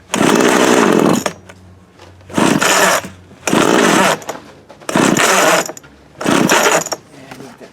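Close, loud revving from a Montgomery Ward TMC 24052B chainsaw, five evenly spaced throttle bursts dropping back to a rough idle between each, with no voices.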